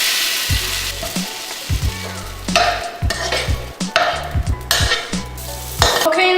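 A hash brown sizzles and fries in an oily wok, a steady crackle broken by repeated scrapes, knocks and clatters of a utensil against the pan.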